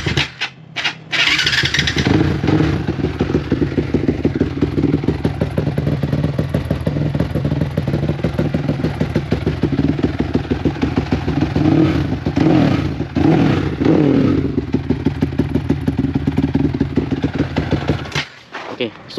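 A Yamaha Y15 motorcycle with an upgraded exhaust runs loud and close, the engine idling with a rapid pulsing beat and blipped through several revs that rise and fall throughout.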